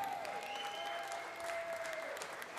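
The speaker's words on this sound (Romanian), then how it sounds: "Și aș vrea să-l aplaudați." Applause from a crowd at a live blues and rock festival concert, steady dense clapping filling the whole stretch at moderate volume, with a thin whistle-like tone sliding across it.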